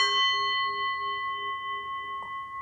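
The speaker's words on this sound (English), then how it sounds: "I'll hit the gong" Meditation gong already ringing in a decaying metallic tone with several steady overtones, sustaining clearly and fading slowly in a quiet room.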